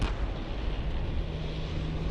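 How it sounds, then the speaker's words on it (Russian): A tank cannon fires at a target during a tank biathlon race, a deep, heavy boom rolling into a sustained low rumble that carries across an open range with no distinct second shot. "а пока второй выстрел."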